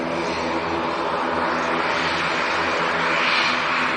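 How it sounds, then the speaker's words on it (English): A Ryanair ATR 72 turboprop at Manchester Airport drones steadily and loudly throughout, a broad engine roar with a propeller hum beneath it and no voices. "Ryanair ATR 72"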